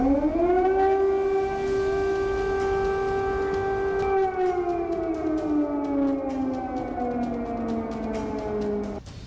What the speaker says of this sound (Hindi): कीव में लगातार मिसाइल अटैक के सायरन बज रहे हैं